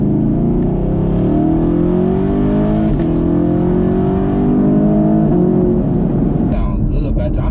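A tuned Chevrolet SS making around 476 horsepower accelerates hard on an open road, its engine roaring loud and close with a rising drone and crackling exhaust pops near the end.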